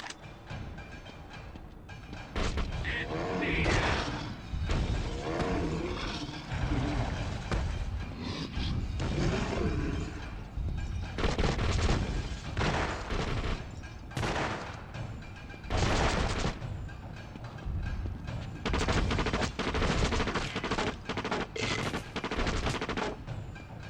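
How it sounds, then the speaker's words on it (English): Rapid machine gun fire and scattered shots in the video game The Suffering: Ties That Bind, repeated loud bursts of varying length with short pauses between them, heavy and close throughout. "Another machine gun."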